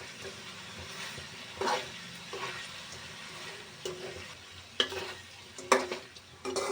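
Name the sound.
stirring chicken gravy with salt and turmeric in a pan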